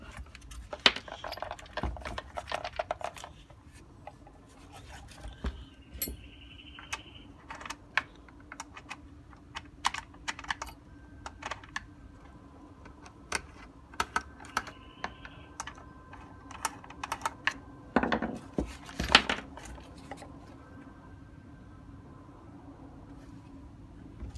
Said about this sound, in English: I'm just going to tip that over to get the screws out.